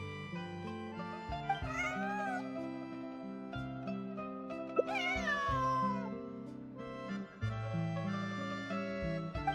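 A cat meows twice in Genshin Impact, rising and falling calls set over layered game music, the second call louder and longer than the first.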